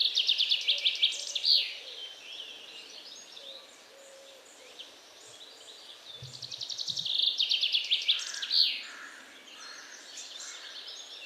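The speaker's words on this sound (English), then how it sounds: "Can you hear the birds?" Outdoor birds chirping in bright, rapid trilled bursts, loud at the start and again toward the end with a quieter stretch between, plus a brief soft low thump midway; no voices.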